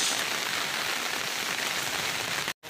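Heavy rain pours down steadily in a dense, continuous hiss, loud and close, cutting out abruptly for a moment near the end.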